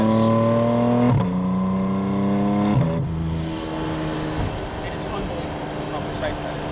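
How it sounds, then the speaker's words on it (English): 2024 Porsche GT4 RS engine blipping through quick PDK paddle downshifts, two sharp rev jumps close together before the note drops and rumbles on, with someone talking over it. "one thing you'll notice about this PDK transmission is the downshifts are unbelievably fast"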